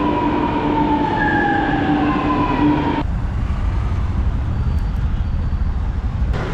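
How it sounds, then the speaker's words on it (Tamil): A Chennai metro train pulls into the station with a steady, loud rumble and a rising electric whine that gives way to a broader roar of wheels and air. No talk is heard. "மெட்ரோ வந்துச்சு."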